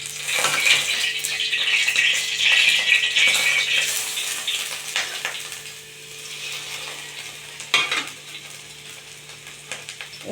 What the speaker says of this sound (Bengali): একটু আদা ভেজে নিচ্ছি কড়াই তেল দিয়ে।